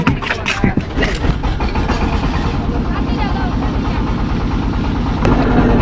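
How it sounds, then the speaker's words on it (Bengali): A motorboat on the Nikli haor waterway in Kishoreganj runs its engine steadily while under way, a close, continuous chugging drone with a person talking over it. "আমাদের বোট কিন্তু অলরেডি ছেড়ে দিয়েছে অষ্টগ্রামের উদ্দেশ্যে, আর চলতেছে"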